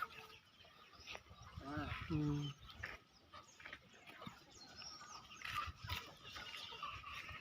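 Country hens and roosters clucking at a rural poultry sale, with bursts of fowl calls mixed among people talking nearby and steady outdoor background noise.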